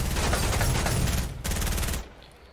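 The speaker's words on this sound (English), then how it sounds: "Wanna shoot me again, huh? Shoot me again." Rapid video game gunfire rattles loudly in dense bursts for about two seconds, breaks off briefly, then resumes before cutting to quiet.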